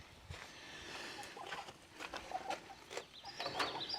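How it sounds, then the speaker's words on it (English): Chickens clucking and chattering on a farm in the morning, with short bird-like calls scattered over a steady outdoor background, moderately near. "The chickens are going to be happy."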